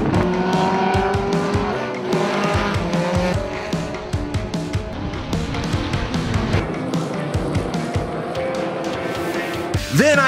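Vintage race cars on an SVRA race day, engines roaring and revving loudly and continuously as cars pass close by, with tires squealing through the corners.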